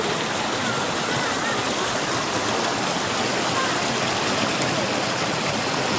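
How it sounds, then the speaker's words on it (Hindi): Water gushing out from between stones at a spring near a waterfall in Salalah, Oman: a loud, dense, unbroken rushing wash that holds steady for the whole stretch. "पत्थरों में से पानी निकल रहा है"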